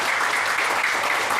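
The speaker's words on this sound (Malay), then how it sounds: "Ada tepukan lagi." A live studio audience at Hotel Berjaya in Kuala Lumpur claps in a dense, even, sustained burst of applause without a break, moderately loud and close.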